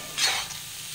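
Spinach stems stirred in a frying pan for a Kerala cheera mezhukkupuratti, a brief soft scraping stir with a burst of sizzle that fades to a quiet steady hiss.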